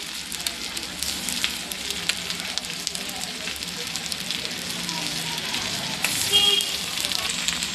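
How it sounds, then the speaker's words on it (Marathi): Chicken pieces fry in a hot pan of oil, giving a steady dense sizzle and crackle throughout with a slight rise near the end. "असे थोडे थोडे करून आपण ते फ्राय करून घेऊयात"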